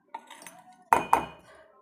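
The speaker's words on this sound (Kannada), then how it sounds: "ನಾನು ಬೆಂಡೆಕಾಯನ್ನು ಇದನ್ನು ತೆಗೆದು ನಾನು ಇವಾಗ ಮಿಕ್ಸಿ ಜಾರಿಗೆ ಹಾಕೋತಾ ಇದ್ದೀನಿ ರೀ" Cooked okra for Malnad-style sambar is scooped into a mixer jar, giving a few short clinks of a spoon against metal, one soft tap followed by two sharper knocks close together, otherwise quiet.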